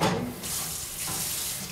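Hot water tap running steadily into a kitchen sink, a loud continuous rush that starts abruptly and carries on alone without talk.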